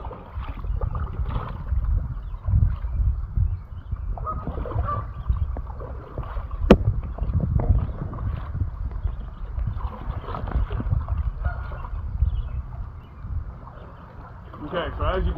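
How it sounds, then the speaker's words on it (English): A kayak fitted with homemade outriggers is paddled on a river, giving soft water swishes and gurgles close by under wind noise on the microphone, with one sharp knock partway through. "I can paddle around here and not hit anything"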